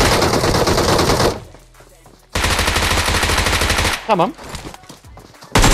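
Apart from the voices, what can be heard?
Bizon submachine gun fire in a video game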